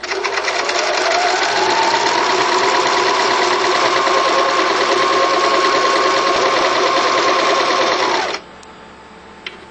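A sewing machine runs a stitch line along the presser foot on fabric for making gear, a loud, steady, fast mechanical whir that holds for about eight seconds before stopping abruptly, followed by quiet handling noise.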